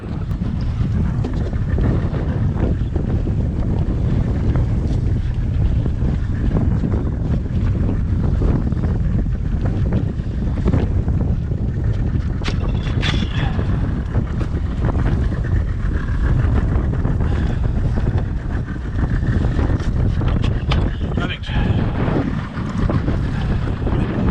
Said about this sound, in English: get out of this terrible wind